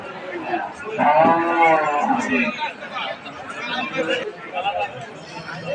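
A two-month-old Sahiwal bull calf and cattle mooing close by, one long drawn-out moo followed by shorter lowing, with people chattering in the background.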